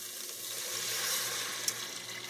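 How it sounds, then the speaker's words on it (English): Two cups of water pour into a hot pan holding a stuffed-pepper mixture seasoned with salt and pepper, giving a steady rushing hiss with a light sizzle underneath and no voices. "now we're going to add our 2 cups of water"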